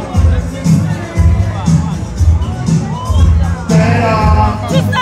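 Crowd at a dancehall event cheering and whooping, loud and close, with bursts of shouting over a thumping beat and people talking amid the noise.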